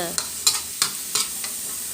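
Clams and holy basil are stir-fried in a hot pan: a spatula scrapes and tosses in quick, irregular strokes over a bright, close sizzle, with no talking.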